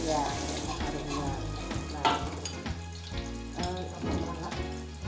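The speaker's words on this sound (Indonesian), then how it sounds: "Bawang merah sama bawang putih ini kalau misalnya udah di awal ditumis gini mengeluarkan cita rasa dan juga wangi yang luar biasa" Shallots and garlic sauté in a hot pan, giving a continuous crackling sizzle with occasional stirring scrapes that sound close and fairly loud throughout.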